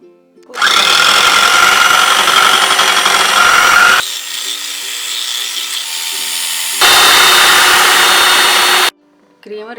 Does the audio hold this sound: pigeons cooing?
no